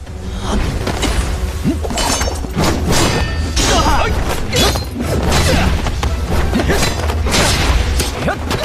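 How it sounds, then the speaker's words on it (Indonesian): An explosion set off as a diversion during an animated fight sets off a dense, loud stream of crashing, booming bursts and debris-like smashes that continue without pause. "Lindong menciptakan sebuah ledakan sebagai pengalihan agar ia bisa melarikan diri"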